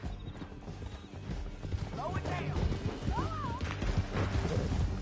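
Horse hooves clatter at a gallop in the Red Dead Redemption 2 video game, a dense steady beat under a busy action mix with a brief whinny and people talking over it.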